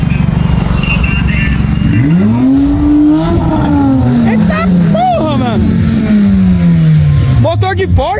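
Car engine revving hard near a blue lowered Audi Q3 on 22-inch wheels, rising sharply in pitch, holding high, then falling away over several seconds, with loud crackles and pops, alongside faint talk.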